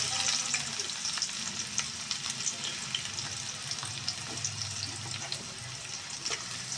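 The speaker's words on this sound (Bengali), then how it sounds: "পেঁয়াজগুলি আমি একটু তেলে ভেজে নেব নরম করে" Chopped onions fry in heated white cooking oil in a kadai wok, a steady, dense sizzle with a constant crackling hiss that carries evenly from start to finish with no voices.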